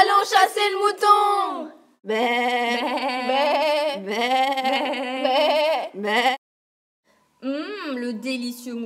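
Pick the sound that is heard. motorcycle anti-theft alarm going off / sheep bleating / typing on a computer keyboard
sheep bleating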